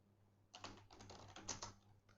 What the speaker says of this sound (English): Now I'll type my password.